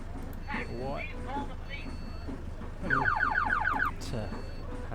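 A bus panic alarm in the OMSI 2 bus simulator game sounds as a brief warbling electronic tone lasting about a second, mixed in with people talking.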